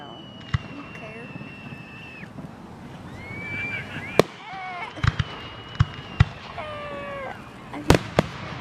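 July 4 fireworks display at Alton Baker Park in Eugene, Oregon: sharp booms and crackling bursts scattered over several seconds, with whistling rockets rising between them, heard from a distance with people talking nearby.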